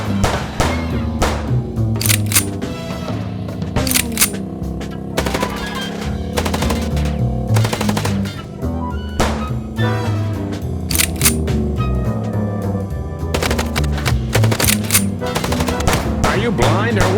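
Sustained machine-gun fire from the video game Chicken Police rattles nonstop in loud, dense bursts over a heavy, droning action score.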